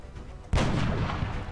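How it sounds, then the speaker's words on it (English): A single loud gunshot for a headshot in the turn-based strategy game XCOM cracks suddenly after a brief quiet lead-in and rings out with a sustained, booming tail. "Let's get a headshot on this guy."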